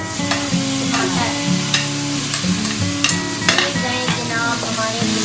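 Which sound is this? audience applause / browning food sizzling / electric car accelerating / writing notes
browning food sizzling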